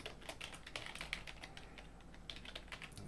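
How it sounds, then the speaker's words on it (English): A computer keyboard clatters with quick, irregular keystrokes as a password is entered, close and fairly soft, with no voices. "Let's see if I can type that in correctly."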